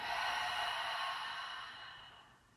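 A long, breathy exhale through parted lips during yoga breathing, a soft airy rush that gradually fades over a couple of seconds, close and alone with no talking.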